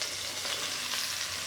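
Mushrooms and pearl onions frying in olive oil, a steady, fairly quiet hiss of sizzling fat over a short stretch with no speech.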